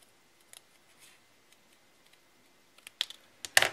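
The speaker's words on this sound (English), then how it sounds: "I'm keeping the scissors in the same place, but I'm moving the paper" Scissors snip through paper, with a few light, sparse cuts at first and then several louder, crisper snips close together at the end.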